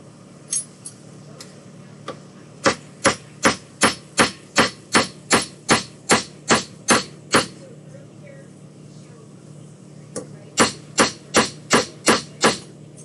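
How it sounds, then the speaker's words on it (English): A hammer pounds a small workpiece flat on a hard surface: a long run of sharp, evenly spaced metallic strikes, a pause, then another quick series of blows, loud and close. "I'm just smashing the tail right now."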